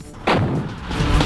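Bofors artillery guns fire a single heavy, booming blast followed by a rumbling tail and a second surge of roar, loud and close, in a Kargil War battle setting.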